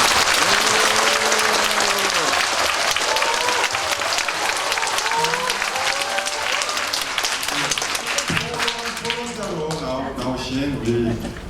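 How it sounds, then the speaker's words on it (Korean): A seated audience in a Korean parliamentary memorial hall bursts into sustained applause as panelists are introduced, dense clapping with voices speaking over it. "박수."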